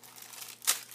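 A small plastic bag holding a collectible figure is torn open, giving one brief, sharp crinkling rip against quiet room noise.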